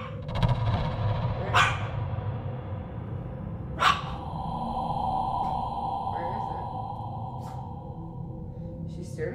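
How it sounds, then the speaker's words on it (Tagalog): A pet dog barks at an empty spot, giving two sharp barks a couple of seconds apart under steady talking. "Makikita sa bidyong ito ang kanyang alagang aso na nakatitig at kumakahol sa isang lugar."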